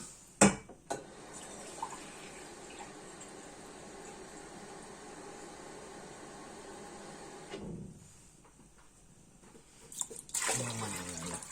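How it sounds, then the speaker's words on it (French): Water pours into a pot to cover calf's feet, a steady, faint stream running for several seconds, then a short pause before a louder burst of splashing and clatter. "Bien recouvrir d'eau."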